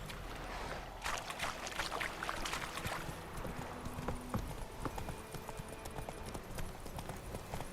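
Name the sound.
horse Roach's hooves clip-clopping in video game The Witcher 3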